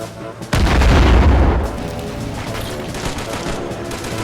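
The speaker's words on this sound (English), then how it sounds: "And some artillery. Artillery fire. Field gun, artillery." Artillery field gun firing as a sound effect in a toy war battle, one loud close boom that rolls out into a long rumbling tail with a steady background din.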